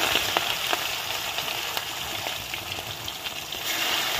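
Chicken leg pieces frying in about 250–300 ml of hot oil, a steady, dense sizzle with faint crackles and pops running throughout, close and fairly loud, with no voices.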